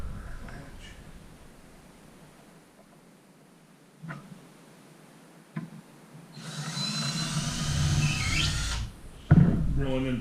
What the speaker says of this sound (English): Drilling into particle board here, so I'm always making sure that I try to pre-drill